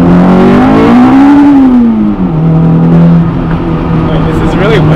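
A Honda Integra Type R DC2R accelerates hard on a wet road, its engine note climbing loudly and steadily from inside the cabin, dipping briefly at a shift, with talk underneath.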